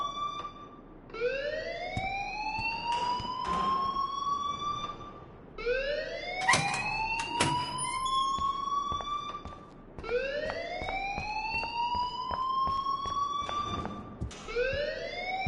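A rising, wailing siren-like alarm in the video game Life is Strange, repeating in three long upward sweeps. It sounds loud and continuous, with scattered clanks and thumps underneath and no speech.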